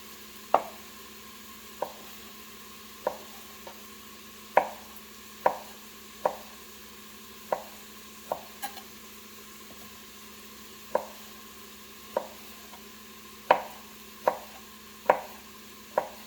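Cooked ham is cut into cubes on a cutting board, giving about fourteen crisp knife strikes at uneven intervals, close and clear, with no talking.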